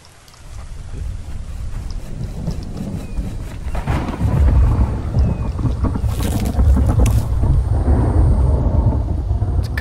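A thunderstorm in the video game The Infected, heard over an open field: a low, heavy rumble of thunder swells and stays loud over steady rain and wind noise, with no voices.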